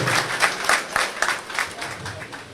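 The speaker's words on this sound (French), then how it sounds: "Applaudissez très fort pour monsieur Sidibé, s'il vous plaît" Audience applauding at the inauguration ceremony of a new party headquarters, a steady run of clapping with a few louder swells, close and fairly loud.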